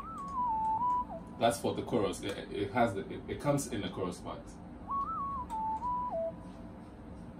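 Short whistle melody sample in an FL Studio beat, heard in two brief phrases at the start and end, with someone talking over the middle.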